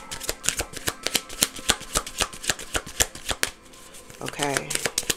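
A Kipper deck of cards is shuffled close up in a rapid series of crisp riffling slaps and flutters, with a brief voice breaking in near the end.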